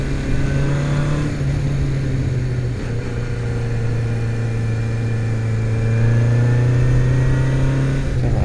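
A 1978 Honda CB750F motorcycle engine revs nearby, a loud, sustained mid-pitched drone that dips slightly and then swells again, with no voices over it.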